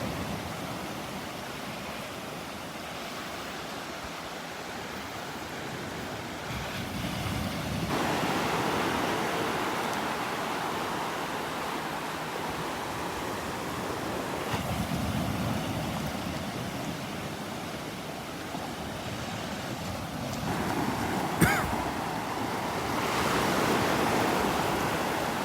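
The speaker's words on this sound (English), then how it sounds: "Waves are really starting to kick up." Ocean waves roll onto the beach at North Naples, Florida, during a red tide, a continuous broad wash of surf that swells and recedes in long surges, steady and moderately loud with no voices.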